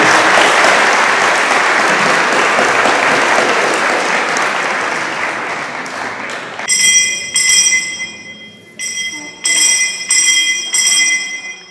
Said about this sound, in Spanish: Les damos un aplauso de frente a ti.